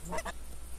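Geese in theHunter 2015 hunting game give two quick honks in succession, moderately loud over a steady low background hum, with no talking.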